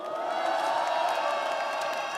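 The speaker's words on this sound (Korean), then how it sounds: "그분들의 뜨거운 격려의 박수 보내주시면 좋겠습니다." Crowd at an outdoor Democratic Party rally applauds and cheers, a dense steady wash of clapping and voices held at an even level throughout.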